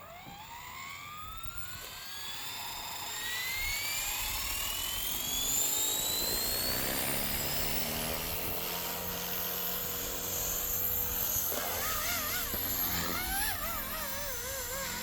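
A Blade 235 CP RC helicopter's rotor spins up, its motor whine climbing steadily in pitch over several seconds, then settling into a loud, close, sustained buzz with wavering tones near the end.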